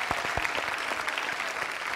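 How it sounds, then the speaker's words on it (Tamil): Audience applause in a hall, dense scattered hand claps forming a steady patter throughout, moderately loud and without voices on top. "அதுக்கு ஒரு பெரிய கைத்தட்டல் கொடுத்துடலாம் அவங்களுக்கு."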